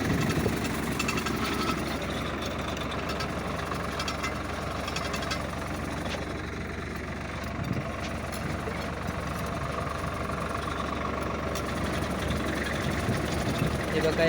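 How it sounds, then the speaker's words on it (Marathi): A tractor pulling a turmeric planting machine runs steadily in a field, its engine idling with a knocking, vibrating low drone that stays constant throughout, while voices talk faintly over it. "अशा पद्धतीने ट्रॅक्टर चालू आहे."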